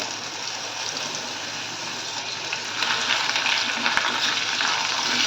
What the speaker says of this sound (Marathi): सोबतच मी यामध्ये लसूण आणि आलं हे सुद्धा तेलामध्ये भाजून घेणार आहे